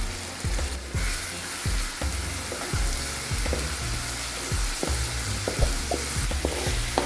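Tomatoes fry in hot oil for egg fried rice, giving a loud, steady sizzle broken by repeated knocks of a spoon against the pan in an uneven rhythm.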